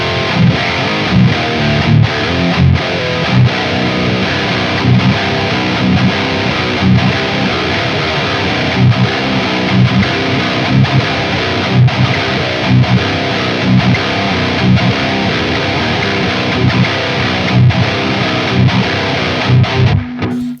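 Heavily distorted electric guitar played through the JST Toneforge Disruptor plugin: dense, loud chugging riffs with steady rhythmic palm-muted bursts, alone and without talk.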